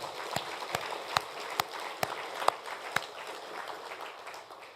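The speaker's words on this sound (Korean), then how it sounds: "그분들은 박수를 한번 쳐드리고 싶어요. 박수 한번 쳐드리세요" A small Sunday-worship congregation at Yangnim Church in Gwangju claps sparsely: about eight separate, fairly faint claps in an uneven rhythm over a soft room hum, with no voices.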